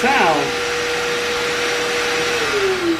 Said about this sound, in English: The second sound is the vacuum.